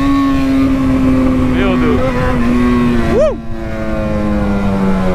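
A Yamaha XJ6 motorcycle engine drones loudly and steadily up close, then revs in a quick rising surge near the end while a man briefly exclaims.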